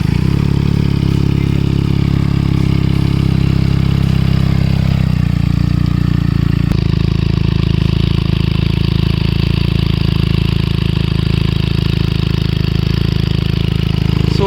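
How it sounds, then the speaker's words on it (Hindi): Benelli TNT 300 motorcycle fitted with an IXIL X60 exhaust idles at about 2000 RPM, a loud, steady, throaty rumble that holds continuously, with a slight shift in tone partway through. "So basically this is the sound when the bike is in idling position, no revs, nothing."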